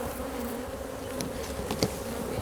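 Honey bees swarm and buzz in a dense, steady drone at an opened hive, the hum continuous throughout with a few louder individual bees passing close.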